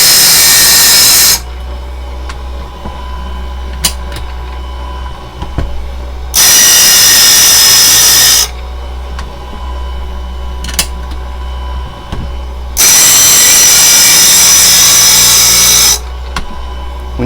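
A Harbor Freight sharpener grinds the teeth of a circular saw blade in three loud, harsh bursts of about two seconds each, with a steady motor hum running in the pauses between them.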